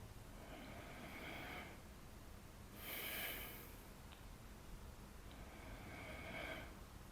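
Slow, deep full-lung breathing practice, with long airy inhalations drawn in and released in a steady cycle, three or so breaths, close to the microphone, soft but clear over a faint hiss, with no talk.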